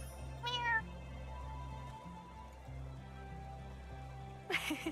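A cat meows twice in the video game Wylde Flowers, once near the start and again at the end, each short and clear over soft game music.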